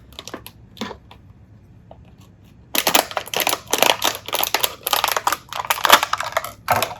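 Scissors snip and crunch through a stiff plastic water bottle in a rapid series of sharp, crackling cuts, close by, after a few quieter clicks.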